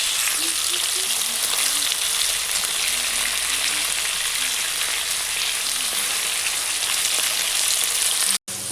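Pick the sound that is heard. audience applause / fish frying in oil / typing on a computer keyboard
fish frying in oil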